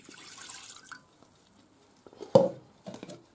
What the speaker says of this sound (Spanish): Echamos el ron,